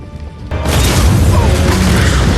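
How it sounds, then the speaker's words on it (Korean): A film explosion breaks in suddenly after a brief quiet, becoming a loud, deep boom that holds as a sustained rumbling roar. "그 순간 들리는 폭발음"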